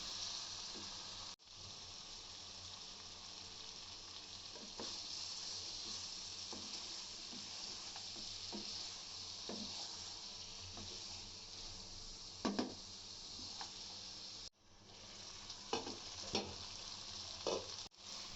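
Beef curry sizzles steadily in a wok, a constant bubbling fry with occasional spatula scrapes and taps as it is stirred.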